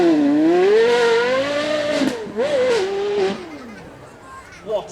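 A Ferrari GT engine revs at a supercar demo, a rising and falling howl that climbs, dips and surges again over a few seconds, loud and fairly close, then tails off.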